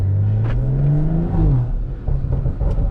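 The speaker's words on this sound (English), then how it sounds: "She pops and bangs like crazy." A tuned BMW M340i running pump 93 fuel revs hard, its engine rising and falling loudly up close, with short crackling exhaust pops and bangs scattered across the revs.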